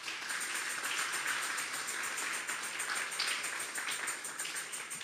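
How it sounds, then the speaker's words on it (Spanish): A congregation at a Tuesday Bible study gives a strong round of applause to the Lord, a dense, even patter of many hands clapping. "Den un fuerte aplauso pues al Señor."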